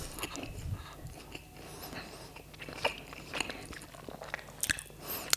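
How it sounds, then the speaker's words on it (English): Close, crunchy chewing and biting with irregular wet crunches and clicks, no voices. "I feel like I could hear myself chewing"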